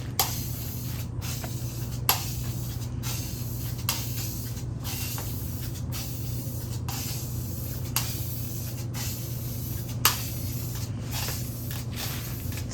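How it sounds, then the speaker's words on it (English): A spray bottle of gold paint hisses steadily while coating door hardware, with faint regular pump clicks and brief breaks between sprays over a low background hum. "So what do you think of that spray bottle?"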